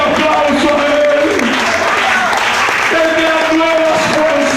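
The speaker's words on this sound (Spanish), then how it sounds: "den un aplauso a Él." A church congregation claps along in a steady roar while a preacher's voice and sustained singing or music carry over the top, the applause filling the room throughout.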